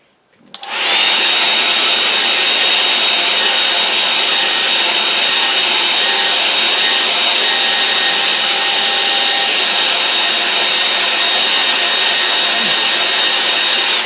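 A hair dryer switches on after a brief pause and blows loud and steady at close range over a watercolour painting of trees, holding one even roar throughout without talk.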